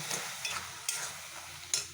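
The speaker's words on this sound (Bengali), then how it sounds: "আলু ভাজা করছি," Potatoes frying in a pan give a low, steady sizzle, with four or five quick scraping stirs of a spatula coming through clearly above it.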